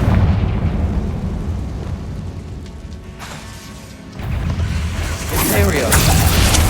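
Confringo blasting curse explosions in Hogwarts Legacy, a fiery burst rumbling through a loud, busy combat mix with low booms and bright crackling flares in the later part, voices mingled in.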